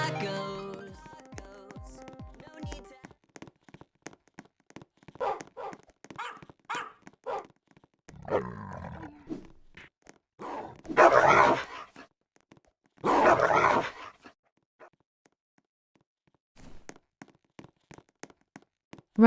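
Dog barks from a dog character in the Roblox game Dog Pound, a scattered series of short barks and yelps at moderate loudness, with a few louder bursts, mixed with game sounds and occasional talk.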